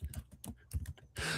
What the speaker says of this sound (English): I could add in some background keyboard sounds as I'm reading it.